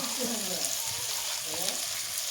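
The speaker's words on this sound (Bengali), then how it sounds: "এই যে টমেটো দিয়ে দেবো। টমেটোগুলো দিতে গলে যায়, তার জন্য আমি একটু নুন দেব।" Tomatoes frying in a pan with salt for a mustard-based puti fish gravy, a steady close sizzle with soft stirring, while a voice speaks faintly underneath.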